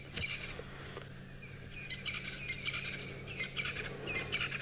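Crested francolins call in the African bush at sunrise, bursts of harsh rhythmic chattering repeating at a moderate distance over a quiet background hum.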